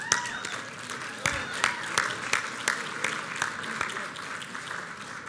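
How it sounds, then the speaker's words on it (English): Applause from an awards ceremony audience, scattered sharp claps rising out of a room murmur, moderately loud and fairly near, with voices talking underneath. "I'm going to ask you to please hold your applause for the end"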